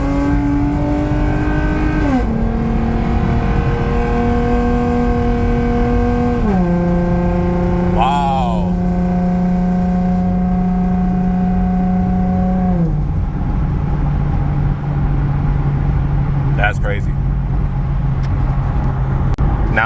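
A Lexus IS 250 fitted with an RR Racing carbon intake accelerates through the gears, its engine note rising and dropping at each shift in a steady loud drone heard from inside the car, with faint background noise and no clear talk.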